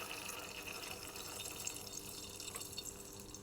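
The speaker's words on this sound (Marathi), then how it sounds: "आता त्यात मी थोडंसं पाणी टाकेन." Water is poured into a dhokla tempering with coriander. A soft, close, steady trickle runs on its own for a few seconds in a quiet kitchen.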